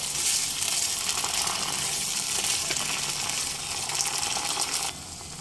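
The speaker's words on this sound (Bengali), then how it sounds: "এই পর্যায়ে এসে দিয়ে দেব অল্প একটু জল" A little water is added to yogurt masala for an egg korma in a hot pan, giving a loud, continuous crackling sizzle that eases sharply just before the end.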